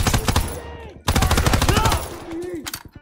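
Close automatic gunfire in Call of Duty WWII, with rapid shots in two sustained bursts and a short gap between them, mixed with game voices talking.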